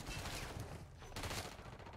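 Video game gunfire crackles as a dense, continuous burst of shots, loud and close throughout, with no speech.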